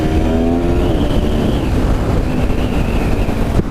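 A 2017 Aprilia Tuono Factory motorcycle accelerating hard on a wet road with traction control active, its engine note rising steadily as a loud, close, continuous drone under rushing wind and spray.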